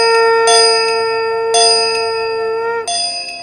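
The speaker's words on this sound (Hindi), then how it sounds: "घंटियां गूंजती" Metal temple bells ring out loud and close, three distinct strikes each followed by a long, shimmering ringing decay, with no voices.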